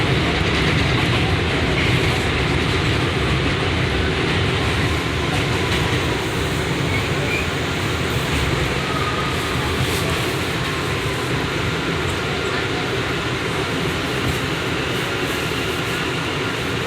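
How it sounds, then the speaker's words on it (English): Onboard a Queens-bound R179 J subway train on the BMT Jamaica Line, a loud continuous rumble and roar fills the car, with rail noise and rattling, steady throughout. "This is a Queens-bound J train."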